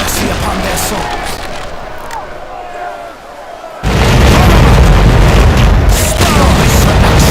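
Ship cannons fire in a naval battle in Commander: Conquest of the Americas, a loud deep boom followed by rumbling quiet, then a second heavy blast that roars on to the end, with voices calling out over the fighting.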